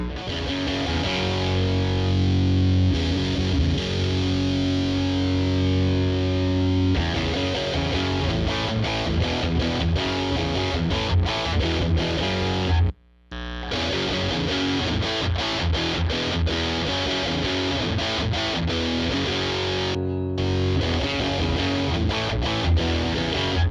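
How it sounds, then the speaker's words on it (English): Heavily distorted electric guitar through a Boss OS-2 pedal with overdrive blended in, a thick, overdriven crunch, played loud and continuous, with one brief cut to silence midway. "back off the distortion side a little bit and mix in a little bit of the overdrive voicing"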